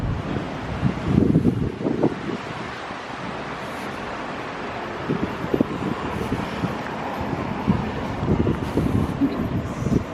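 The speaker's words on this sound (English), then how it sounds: "it's very windy here" Wind buffets the microphone in low, rumbling gusts at a cruise port in Le Havre, France, loud and uneven throughout with no voices.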